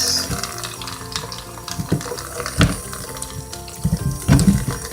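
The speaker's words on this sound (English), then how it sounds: "Rinse." Potatoes being rinsed under running water from a tap into a sink for vegan mashed potatoes, a steady close splash with knocks and clatter of the potatoes and bowl.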